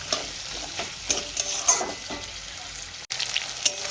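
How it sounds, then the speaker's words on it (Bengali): Onions frying with salt in a pan, browning: a steady close sizzle with spatula stirring scrapes and a few sharp clicks, lively throughout apart from one brief dropout near the end. "পেঁয়াজটা আমি সুন্দর করে লাল করে ভেজে নেব"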